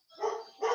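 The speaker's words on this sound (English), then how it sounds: "My dogs are going to bark though, so apologies." Dogs at a door bark in two quick, fairly close yaps a beat apart, sharp and brief against an otherwise quiet room.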